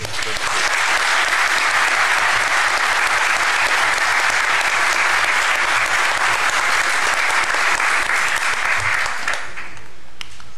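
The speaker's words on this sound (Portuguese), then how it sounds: "uma salva de palmas" Sustained applause from a crowd at a law congress in Brazil, loud and steady for about nine seconds before tapering off at the end.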